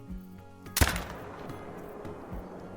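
A single sharp rifle shot at a deer in the hunting game Call of the Wild, loud and sudden, followed by a short fading echo over quiet ambient background.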